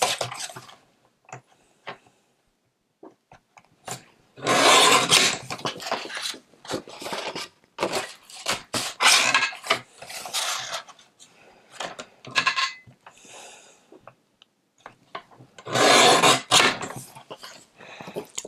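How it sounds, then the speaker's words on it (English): Scissors snip the fronts off recycled Christmas cards in a quiet room, giving irregular bursts of cutting and paper rustling with short pauses between them and no talking. "So I'll start by cutting the fronts of the cards off."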